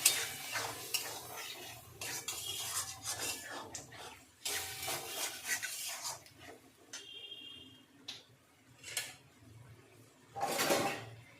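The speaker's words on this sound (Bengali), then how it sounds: "এবার আমি এটা নাড়াচাড়া করবো।" A spoon stirs a soybean dish with chili sauce in a pan, scraping in irregular bursts with a light sizzle, close and fairly loud with short quiet gaps between strokes.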